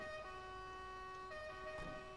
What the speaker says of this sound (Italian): Sirene, vabbè, faccio io